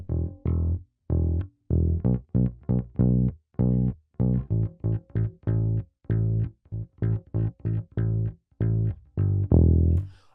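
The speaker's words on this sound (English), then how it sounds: "I would play 4 8th notes" A bass guitar walks through a blues bass line in steady eighth notes, each plucked note clear and separate in a bouncy pattern, played alone and close with no voices.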